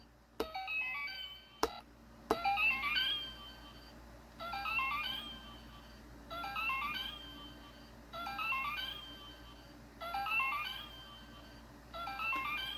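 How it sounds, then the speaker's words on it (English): A Happy Meal 1-up mushroom toy plays its electronic 1-up jingle, a short bright chiptune phrase repeating about six times at steady intervals, preceded by a few sharp clicks, heard close with no talking. "That's the 1-up mushroom that does the 1-up sound."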